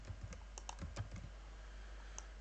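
Typing on a computer keyboard, a quick burst of light, close key clicks that thins to a single tap, quiet and with no talk.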